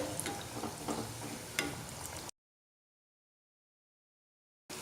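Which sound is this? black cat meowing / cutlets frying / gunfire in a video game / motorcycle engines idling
cutlets frying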